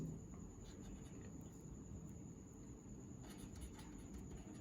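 Chalk or marker writing on a board during a chemistry lesson, heard as a continuous scratchy rubbing at low level, with short, sharper strokes near the end.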